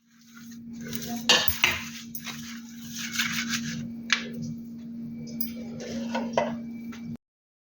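Knife cutting through a dry fruit and nut energy bar on a ghee-greased plate, with close scraping and clinking taps against the plate over a steady low hum, several sharper knocks standing out.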